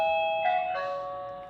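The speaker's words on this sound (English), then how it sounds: "If you press the doorbell button, you will make a call to the smartphone." A Zilink Cobell HD wifi doorbell chiming after its button is pressed: a single electronic ding-dong tone that rings out clearly and fades away, close and alone.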